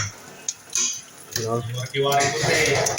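Metal utensil scrapes and clinks against a pan while sautéed mixed vegetables are stirred in a home kitchen, several uneven scraping strokes close up, with faint background voice murmur.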